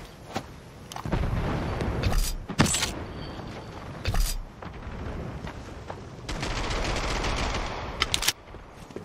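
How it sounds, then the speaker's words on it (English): A thrown grenade goes off amid machine-gun and rifle fire in a WW2 first-person shooter, with sharp, heavy blasts punching through bursts of near, rapid gunfire. "Throwing a grenade!"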